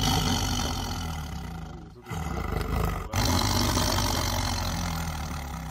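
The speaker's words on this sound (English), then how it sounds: "T for tiger." Tiger roaring, a loud continuous growling roar that drops briefly twice and picks back up, dense and close, with no talk.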